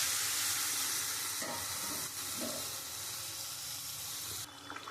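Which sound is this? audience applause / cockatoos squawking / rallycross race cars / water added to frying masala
water added to frying masala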